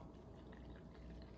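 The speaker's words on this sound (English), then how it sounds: "just gonna fill it to the top" Plain sparkling water fizzes and bubbles as it is poured up to the brim of a glass, a faint, close, steady carbonated hiss for a moment.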